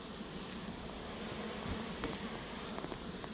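Honey bees hum around an open hive on a deer farm apiary during a pre-winter brood inspection, a continuous, even buzz with faint rustles and a few close passing wingbeats.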